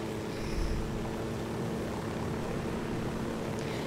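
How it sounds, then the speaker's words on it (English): A helicopter in the video game Tom Clancy's Ghost Recon Wildlands gives a steady, loud, droning engine and rotor hum that fills the whole stretch without a break. "Sorry, my helicopter skills are really bad, like really bad."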